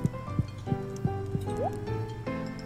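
Horse hooves in Stardew Valley clip-clop in a steady, evenly spaced rhythm of soft thuds, fairly faint beneath the game's background music.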